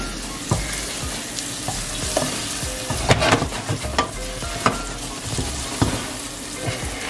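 Onions fry in a pan for a Portuguese chicken curry, a continuous close sizzle broken by the scrape and clack of a spoon stirring at irregular moments, with no talk.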